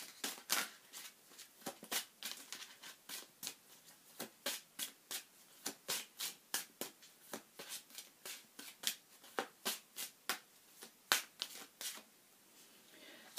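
Lenormand tarot cards shuffled by hand in a steady run of crisp riffling bursts, about two per second, close and clear with no talking.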